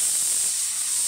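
A pressure cooker with potatoes and eggs inside lets out a short, sharp, high steam hiss, loud and close, lasting about a second.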